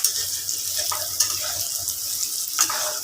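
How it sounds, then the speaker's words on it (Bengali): Thin-sliced ivy gourd coated in salt and turmeric fries in a pan, producing a steady close crackling sizzle with occasional stirring scrapes and spatters, with no talking. "নুন হলুদ মাখানো, সরু সরু করে কেটে রাখা কুদরি দেখো ভাজা ভাজা হয়ে গেল"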